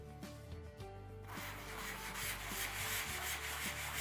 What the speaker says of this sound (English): all we need to do is give it a light sand before we apply the second coat